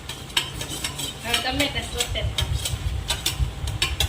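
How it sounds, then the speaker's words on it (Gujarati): Tomatoes and onion cook in a pan, stirred with a utensil that clicks and scrapes against the metal in an irregular rhythm over a soft sizzle, close and fairly loud. "ટમેટાને કૂક કરવાના. થોડોક અવાજ છે ને મોટો રાખજો એટલે શું કરી આમાં સંભળાય એટલા માટે."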